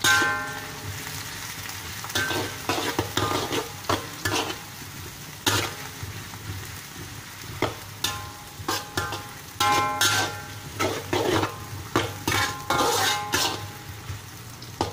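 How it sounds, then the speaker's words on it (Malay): Repeated sharp metallic clanks of a metal spatula striking a wok in irregular bursts over a continuous sizzle of onions frying for chicken curry, close and loud. "Awas sudip besi, dia akan berlaga-laga dengan kuali."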